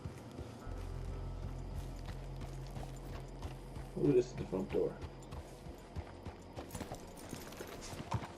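A horse's hooves clip-clop in Red Dead Redemption, a soft walking rhythm under game ambience that briefly grows louder and more distinct, with someone talking over it.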